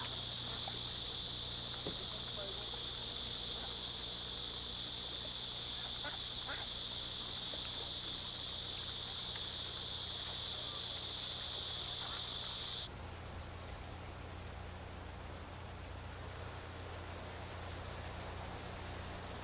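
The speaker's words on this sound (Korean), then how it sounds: "매미소리로 깊어가는 한여름 냇가는 수소곤충들의 짝짓기로 사랑낙원이 된다" Cicadas buzz by a summer stream: a loud, continuous, high drone runs throughout, shifting abruptly to a different pitch partway through, over a low steady background hum.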